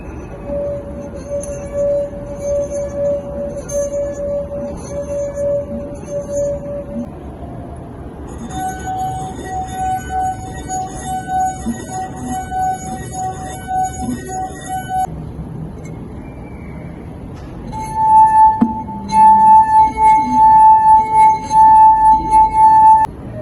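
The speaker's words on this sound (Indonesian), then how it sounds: "Kemudian putarlah keliling bibir gelas menggunakan 3 ruas jari." Sustained pure ringing tones from fingers circling the rims of drinking glasses in a classroom physics resonance demonstration, several glasses in turn, each holding a steady pitch, the last one louder and higher.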